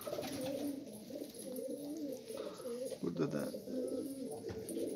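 Pigeons kept as homing birds coo in a loft, a steady low throaty warble close by and continuing throughout, with someone speaking briefly over it.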